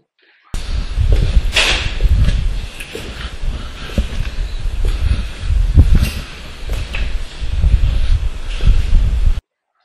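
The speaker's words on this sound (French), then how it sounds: "il y a beaucoup de vent" Strong wind blasts across an outdoor microphone, a loud, continuous rumbling roar with gusts surging and easing for the whole stretch, alone with no voices.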